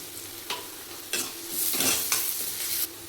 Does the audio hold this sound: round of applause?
no